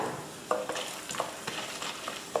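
Peanuts and chana dal fry in hot oil with steady sizzling, with intermittent scraping clicks of stirring at irregular intervals, close up and fairly loud.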